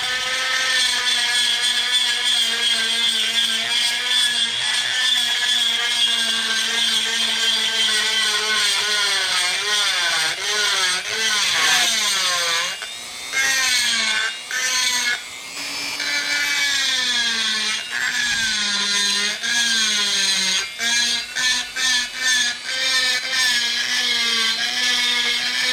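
A high-speed rotary power tool grinding metal while porting the exhaust port of a Stihl 025 chainsaw. It gives a loud, continuous whine that shifts in pitch as it bites, with brief dips and pauses late on.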